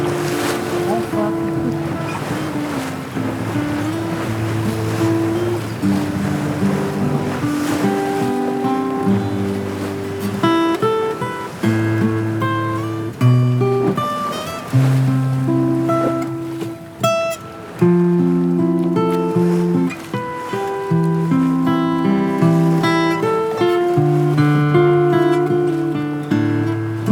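An old wooden sailing boat under sail cruises a bay near a small port, with wind and water washing steadily beneath loud tonal music that dominates the whole stretch.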